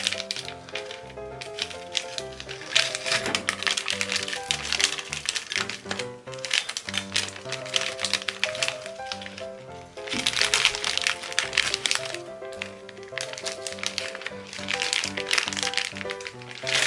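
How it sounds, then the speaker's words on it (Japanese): Gari-Gari-kun ice pops crushed in a Corona beer glass to make a sherbet with sparkling water; repeated crunchy cracking and crackling bursts come in waves, close and fairly loud, over steady background music. "ガリガリ君を砕いてこの炭酸水を入れるだけです"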